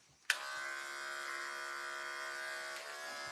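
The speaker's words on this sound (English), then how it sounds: "I could do a freehand technique working with an open lever of my clipper blade here." Electric hair clippers with an open blade lever switch on with a sharp click and then buzz steadily while cutting a man's short layered hair freehand, close and alone with no talking, dipping slightly near the end.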